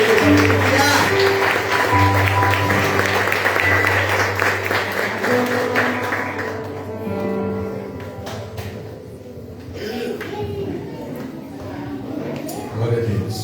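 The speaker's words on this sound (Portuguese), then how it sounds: "Você pode dar uma salva de palmas para a gente." A church congregation clapping during a worship service, steady applause mixed with a tonal musical backdrop, tapering off partway through as voices take over.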